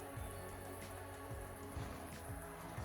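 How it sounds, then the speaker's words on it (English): Rain falls steadily on a garden during a storm, a soft, continuous patter with scattered nearby drips and taps, faint and heard on its own with no talking. "Still raining."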